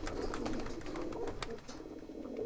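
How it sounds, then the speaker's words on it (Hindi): A pigeon in a loft gives soft, repeated cooing, its low murmurs mixed with faint rustling and clicks, steady and close throughout with no talking. "ये यहाँ पे और एक कबूतर है"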